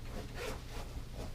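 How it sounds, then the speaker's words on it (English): A fabric liner inside an Away suitcase being unzipped, a steady close zipper rasp running continuously for just over a second with a few brief surges. "once you unzip this liner right here"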